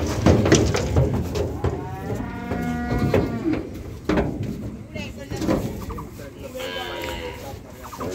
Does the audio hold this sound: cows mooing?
yes